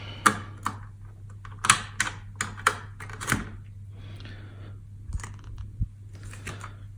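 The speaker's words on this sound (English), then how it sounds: "So let me remove this one from the socket." A VIC-II graphics chip being pried out of its socket on a Commodore 64 board: a series of sharp, close clicks and scrapes in irregular bursts, with quieter gaps and a faint steady hum underneath.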